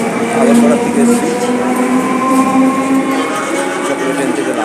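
A train stands at a busy suburban railway station platform, giving a loud continuous rumble with a steady low engine hum and faint background chatter throughout.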